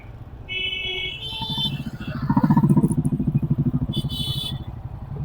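A motorcycle ridden on a highway, its engine pulsing with repeated throttle swells as gears are shifted up and down, close and steady throughout the ride.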